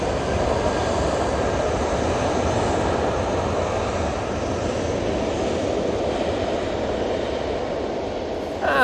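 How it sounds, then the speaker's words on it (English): An Airbus A320-200 takes off from Manchester Airport bound for London Heathrow, its engines giving a steady, broad, loud roar that holds throughout without talk. "blasting off to go back to London Heathrow using their A320-200"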